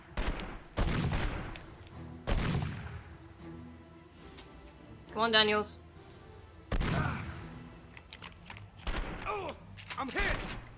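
Gunfire in the video game 24: The Game: several sharp bursts and thumps spaced across the scene, loud and close, mixed with game voices talking between shots.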